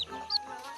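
Chickens and newly hatched chicks in a coop clucking and peeping close by, a short burst of busy fowl calls with one sharper high cry partway through, no talk.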